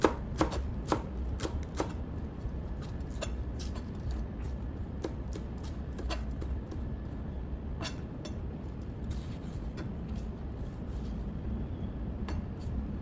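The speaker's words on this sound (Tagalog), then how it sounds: "So, hiwain natin ang petchay." A knife chops pechay (bok choy) on a cutting board in a run of sharp, distinct taps at an irregular pace, close and clear over a low steady background hum.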